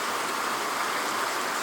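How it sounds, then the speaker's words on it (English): Water gravity-fed from a clam nursery's pumped supply pours steadily into a white trough, a soft continuous splashing hiss, even and unbroken, with no voices. "So we just sort of gravity feed water down around that white trough up there."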